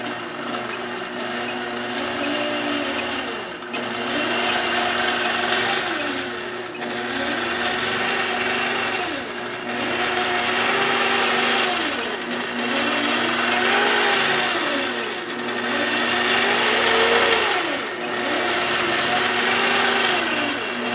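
A crank-turned Spiro stitching machine runs at length, a continuous loud mechanical whir with a repeating rise-and-fall rhythm every couple of seconds and brief dips between stretches of stitching, with no talk.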